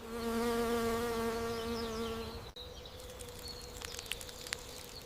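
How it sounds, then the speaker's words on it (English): Honeybees buzz around pumpkin blossoms, one close hum holding steady for a couple of seconds before cutting off, then fainter buzzing and light outdoor sounds continue. "Busy honeybees naturally pollinate the blossoms, making fruit development possible."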